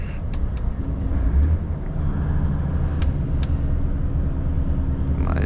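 Volvo truck engine pulling away under acceleration, a steady loud low rumble filling the whole stretch, with a few brief higher clicks on top and no talk.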